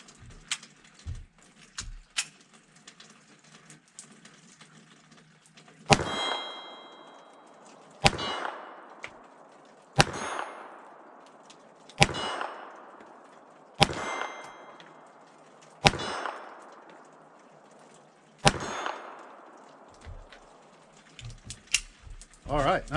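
Kel Tec P32 pocket pistol rounds in .32 ACP strike steel target plates at 15 to 18 yards, giving seven sharp shots, each followed by a ringing metallic clang, evenly spaced about two seconds apart after some faint early talk.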